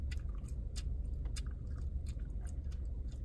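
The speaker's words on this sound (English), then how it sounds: "Stop chewing that gum." Someone chewing gum close by, a steady run of soft wet clicks and smacks over low rumbling background, with no talking.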